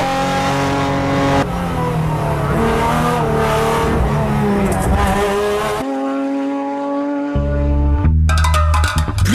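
A Renault Megane 2 RS Trophy, a front-wheel-drive limited edition with a turbocharged four-cylinder, revs hard through the gears at close range, loud rising engine pitch with a brief quieter lift-off and tire noise before surging again.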